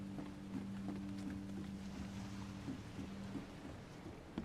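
Rain falls in the video game The Sinking City as a quiet, steady wash of noise under a low droning hum, with faint soft thumps scattered throughout.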